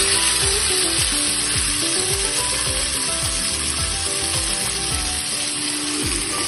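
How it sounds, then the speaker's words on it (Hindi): Marinated fish frying in hot oil with curry leaves gives a loud, dense, continuous sizzle and crackle, close up and steady throughout, with faint rattling underneath and no voices. "मैरिनेट करके रखिଥିବା माछ को पकाई भलो से फ्राई"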